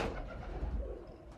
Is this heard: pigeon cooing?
yes